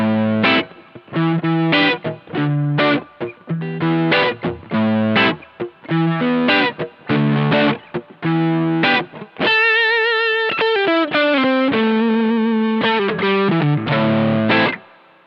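Distorted electric guitar chords through an overdrive pedal, a NuX Steel Singer, strummed in rhythmic bursts, then sustained ringing notes with a reverb tail, loud and close.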